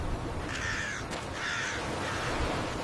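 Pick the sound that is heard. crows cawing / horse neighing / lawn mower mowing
crows cawing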